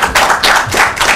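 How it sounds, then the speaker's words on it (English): An audience at a school quiz claps in quick, loud bursts, a close round of hand claps rising and falling in a few short waves. "Let's clap for the maths"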